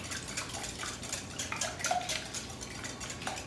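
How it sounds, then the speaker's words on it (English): Wire whisk beating popover batter in a bowl, a quiet rapid clatter of metal tapping against the bowl with a wet swishing, steady and close with no talk. "we're gonna whisk this until it's a little bit frothy"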